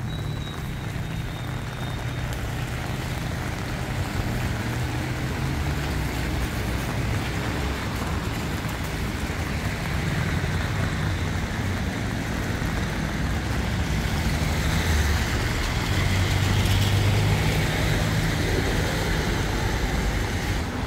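Flooded Itajaí Mirim river in Brusque rushing fast past its banks, a continuous broad roar of churning water with wind buffeting, steady and loud throughout with a faint low engine hum at times.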